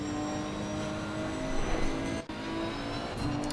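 Race cars lapping Brands Hatch in a GT racing video game, a steady engine drone with faint revving swells that holds for the whole stretch, broken by one brief dropout near the end.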